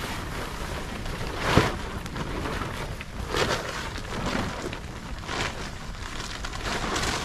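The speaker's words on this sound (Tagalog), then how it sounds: "Ala, ulan na." Steady rain hisses over everything, a broad wash of patter mixed with gusty wind noise, with no voices.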